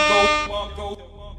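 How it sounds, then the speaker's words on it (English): A loud air horn sound effect blasts in a brief burst of stacked tones, then steps down and trails off over about a second during a sports broadcast. "I gotta do the air horn one time."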